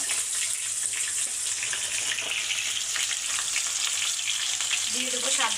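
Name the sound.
ground spice paste and turmeric added to hot oil, frying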